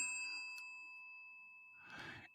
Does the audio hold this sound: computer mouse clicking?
no